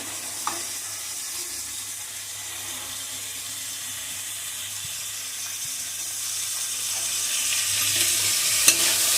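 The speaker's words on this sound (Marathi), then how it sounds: "भाज्या छान परतून घेऊया." Finely chopped cabbage, beans and other vegetables for a street-style momos filling sizzle softly in a pan while they are stirred, with a steady low fry and a few scraping clinks. No one speaks.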